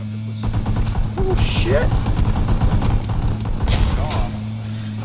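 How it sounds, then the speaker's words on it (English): Rapid bursts of enemy gunfire rattle loud and close in a video game, running continuously for several seconds alongside a vehicle engine, while a player exclaims briefly over the shooting. "He's gonna start shooting at me."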